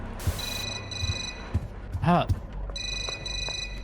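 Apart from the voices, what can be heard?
cell phone ringing, from the horror video game Suffer the Night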